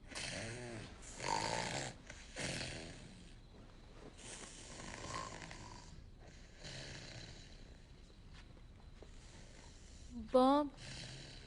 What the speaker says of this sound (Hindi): क्या ये हमेशा ऐसे ही खर्राटे मारता है?